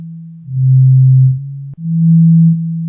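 A pure, smooth synthesizer sine tone holds steadily, shifts slightly in pitch, cuts out briefly with a click, then resumes at a higher pitch.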